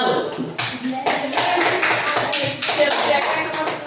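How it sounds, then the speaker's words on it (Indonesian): Classroom applause for a student group during a micro-teaching lesson on cyberbullying, a few seconds of scattered, irregular hand claps and taps from a small nearby crowd, with a voice or two mixed in. "Oke, kasih tepuk tangan dulu untuk kelompok 1."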